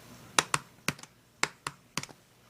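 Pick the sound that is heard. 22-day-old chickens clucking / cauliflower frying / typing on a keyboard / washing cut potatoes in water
typing on a keyboard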